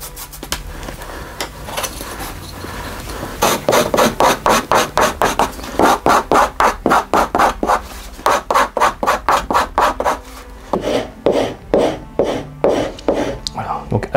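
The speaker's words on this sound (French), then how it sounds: "à l'aide de la cale en bois ou en verre si vous en avez, ça va permettre de bien plaquer les fibres" A wooden block is rubbed briskly back and forth along the edge of a leather strap to burnish the fibres, giving loud, rhythmic rasping strokes close up, pausing briefly between runs.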